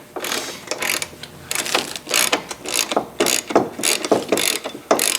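A ratchet loosens a 13mm stock front shock mount in loud, close, rhythmic bursts of clicking, roughly a dozen quick back-and-forth strokes over five seconds with no talking.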